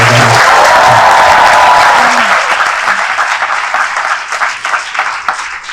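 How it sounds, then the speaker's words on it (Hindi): Loud, close applause greets guest Ishaan Khan on a talk show, a thick burst of clapping from a small audience that starts at full strength and slowly thins over several seconds. "इसके लिए जोरदार ताली होनी चाहिए।"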